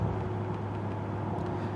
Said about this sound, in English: The only sound I hear at all are the tires making contact with the pavement